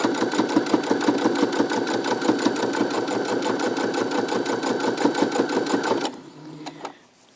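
A sewing machine runs steadily for about six seconds, stitching jelly roll fabric strips with a fast, even mechanical chatter close to the mic, then stops, leaving a few faint clicks and handling noises.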